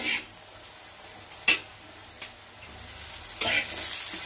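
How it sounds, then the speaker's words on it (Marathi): Curry leaves and turmeric sizzling in hot oil tempering for poha, a steady hiss with a few sharp crackling bursts near the start and end, close and fairly quiet. "कढीपत्ता पण टाकून घेतलेला आहे आपण"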